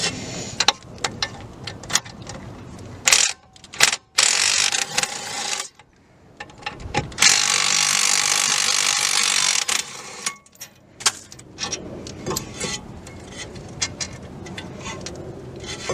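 A ratchet working the 10mm bolts on a car's brake caliper carrier, heard as close, rapid clicking bursts with metallic clanks and brief pauses between runs, with no talking.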